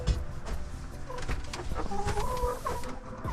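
Farm chickens cluck repeatedly in short, uneven bursts close by, with some higher calls among them, over a steady low background and no talking.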